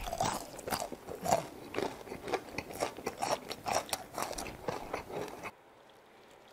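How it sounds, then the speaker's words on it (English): Fried chicken is bitten and chewed close to the ear, a run of slow, loud, crisp crunches in an uneven rhythm that stops abruptly near the end, with no talking. "I'm crunching really slowly."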